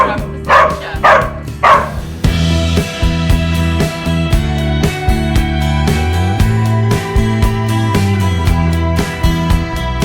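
A dog on a hiking trail at La Algameca Chica in Spain gives three loud, close barks in quick succession, then falls silent as rhythmic music takes over.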